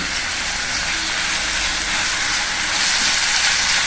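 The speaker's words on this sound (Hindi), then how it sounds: "हरी मिर्च, लहसुन और अदरक का ये पेस्ट है, इसको डाल देंगे" Green chili, garlic and ginger paste fries with onion in a hot pan for a lauki dish, giving a steady, loud broadband sizzle and hiss that swells slightly toward the end, with no voices.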